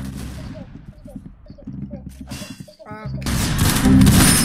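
Rapid gunfire from the Roblox game Arsenal, loud dense bursts that build into a sustained volley, with a player talking over the earlier part.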